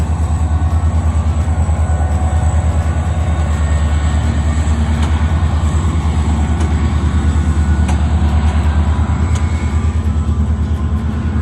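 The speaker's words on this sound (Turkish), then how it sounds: "Bak ince tren gidiyor." Loud, steady rumble of a small park train running close by, with a continuous rhythmic clatter and hum throughout.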